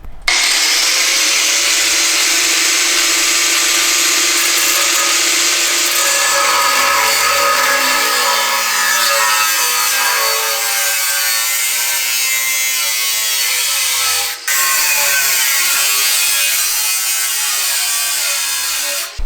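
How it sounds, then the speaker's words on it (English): Angle grinder cutting through a steel exhaust pipe on a Mustang GT, a loud sustained high-pitched whine and grinding hiss running steadily for the whole stretch, with a brief dip partway through. "So with an angle grinder,"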